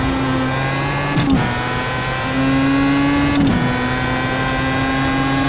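Race car engine in iRacing at Silverstone, a sim racing game: a steady, close engine drone with a held tone, briefly dipping twice as if for gear changes, with no talk over it.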